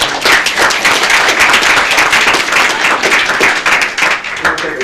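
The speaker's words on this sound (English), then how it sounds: "Let's give those young ladies a round of applause." Loud, close applause at a city commission meeting, a fast and steady run of many hands clapping, with sharp individual claps standing out before it thins slightly near the end.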